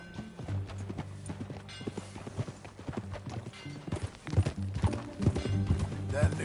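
Horse hooves clip-clop steadily at a walking pace in the Red Dead Redemption 2 video game, a rhythmic run of close hoof beats under game music and ambient sound.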